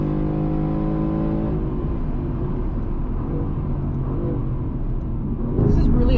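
A Mercedes-AMG G-Class powers down the long front straight of a race track, its engine a steady, loud rumbling drone throughout that swells with a heavier surge near the end.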